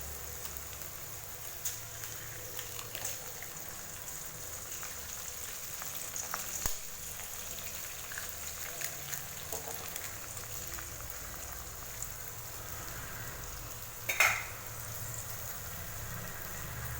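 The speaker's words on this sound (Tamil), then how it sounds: "இப்போ கூட முட்டை வறுத்துக்கலாம்." Egg frying in a pan with turmeric powder, pepper powder and garam masala while making egg rice, a faint steady sizzle with a few soft clinks and one brief louder clatter.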